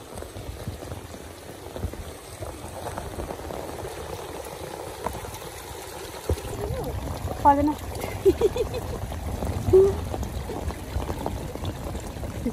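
Floodwater runs across a road during heavy monsoon rain, a steady broadband rush with splashing and dripping throughout, while people talk over it nearby.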